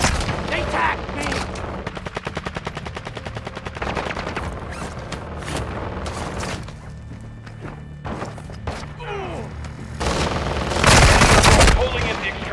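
Bursts of automatic gunfire and scattered shots in the Call of Duty DMZ game, rapid rhythmic volleys early on, then heavier loud blasts near the end, with game radio voices talking over parts of it.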